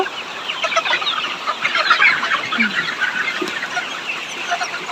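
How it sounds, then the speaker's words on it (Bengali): Home-raised chickens cluck and squawk eagerly for their morning feed, many birds calling at once in a busy, continuous chorus close by. "এই দেখেন মুরগিগুলো কীরকম করতেছে খাবারের জন্য"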